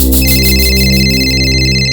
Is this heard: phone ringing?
yes